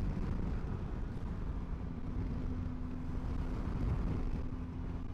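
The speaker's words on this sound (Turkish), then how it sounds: "Hem de rüzgar var, rüzgar." Steady broadband wind rumble buffeting the microphone of a motorcyclist riding in cold wind in Istanbul, with a low constant hum underneath, loud and continuous throughout.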